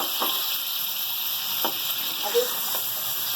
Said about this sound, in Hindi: अभी इन मसालों को हम अच्छी तरीके से भून लेंगे।